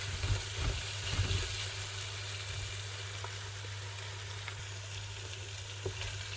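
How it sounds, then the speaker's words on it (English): Leafy greens and ingredients for Nigerian vegetable soup fry in a pot with a steady, soft, even sizzle, fairly faint and close, a few light stirring clicks near the start, no talking. "So I'll still be frying it for another a minute"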